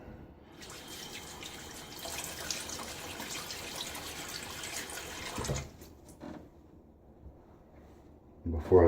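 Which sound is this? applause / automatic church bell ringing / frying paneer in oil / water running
water running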